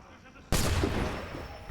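A sudden loud volley of musket fire in the video game Assassin's Creed 3 bursts in after a quiet moment, then rolls off into a long echoing tail.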